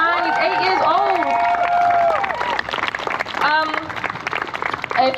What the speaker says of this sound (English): Get one more big round of applause.